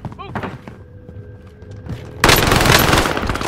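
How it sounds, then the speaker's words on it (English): Burst of video game gunfire on an island battle map, a few muffled shots early then a dense, loud volley of rapid fire in the second half, with a voice talking over it. "Who's shooting me, bro?"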